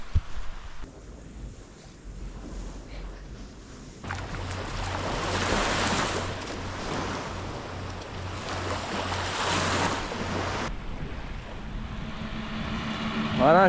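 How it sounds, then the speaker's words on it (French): Waves wash onto a long sandy beach in Greece at sunrise, a steady soft surf rush with wind gusting over the microphone, louder in the middle stretch, with no voices. "C'est une longue plage de sable en Grèce, et là on a un beau lever de soleil"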